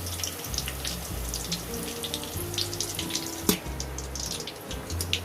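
Potatoes frying in oil in a pan for restaurant-style chicken biryani, giving a steady crackling sizzle throughout with a low hum underneath and one sharp click near the middle.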